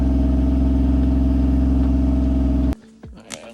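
A Toyota Soarer fitted with a new exhaust holds a loud, steady engine note that runs continuously, then cuts off abruptly near the end, leaving faint handling noises.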